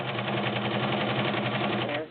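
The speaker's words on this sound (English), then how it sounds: "That is the Morse Apollo 6500 all metal sewing machine." All-metal Morse Apollo 6500 sewing machine running fast in high gear, a steady, even rapid stitching whir from close by that stops at the end.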